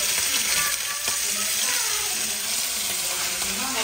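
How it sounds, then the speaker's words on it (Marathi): Prawns frying in a hot pan give a continuous close sizzle with occasional light clinks and stirring, steady throughout and with no talking. "आणि आता फ्रॉन्स फ्राय करून घेते मी"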